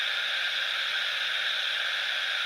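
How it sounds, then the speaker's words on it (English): A spirit box radio left on white noise gives a steady, even hiss of static that holds unchanged throughout, with no voices or other sounds breaking through. "just leave it on the white noise"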